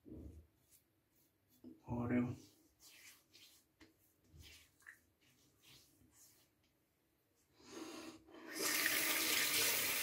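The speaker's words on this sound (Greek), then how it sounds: "έχουμε λίγο νερό" A water tap is turned on near the end and runs loudly and steadily after quiet handling sounds and soft speech.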